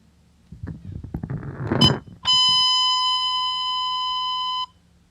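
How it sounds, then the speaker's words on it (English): At a memorial ceremony in Perth Amboy marking the 100th anniversary of a 1921 train accident, a steady electronic fire alarm tone sounds as the final alarm, ringing unbroken for over two seconds after a burst of clattering noise. "please remain standing as we transmit the final alarm for the Eagle 9."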